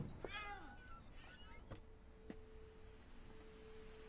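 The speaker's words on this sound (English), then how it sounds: "The cat!" A cat in the video game What Remains of Edith Finch gives a short, faint meow close by at the start, followed by quiet ambient tones and a hushed room.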